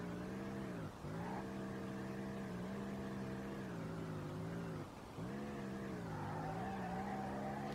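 A car drifts in the SLRR racing game after a new engine swap and lowered suspension, its engine droning steadily beneath long, sustained tire squeals, with two brief dips as the car shifts or changes direction.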